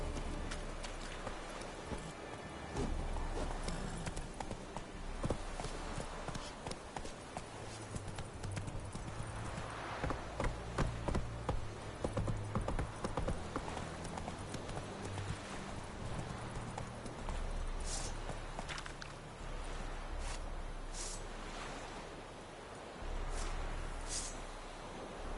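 Roach, a horse in the video game The Witcher 3, galloping with a rapid, continuous clip-clop of hooves over nearly half a minute, close and steady, with brief rustles and no speech.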